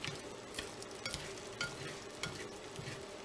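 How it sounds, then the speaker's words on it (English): Beef and noodle casserole mixture stirred in a hot pan, with soft repeated scraping strokes over a steady faint sizzle, close and quiet. "So let's give this a quick mix real quick."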